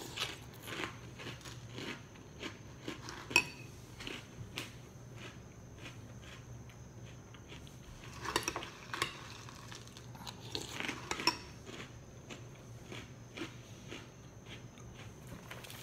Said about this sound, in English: So let's see what happens when we eat some of this with milk.